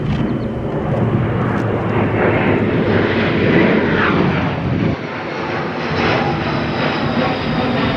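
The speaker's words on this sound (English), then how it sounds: "You hear that airplane?" An airplane passes overhead outdoors on a windy day, its engine a loud, sustained roaring rumble that persists throughout with no talking.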